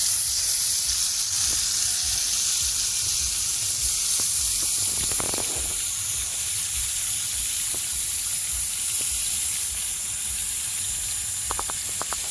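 Prawns in oil fry on a hot clay roof tile, a loud, continuous sizzling hiss with a few faint clicks and pops scattered through it.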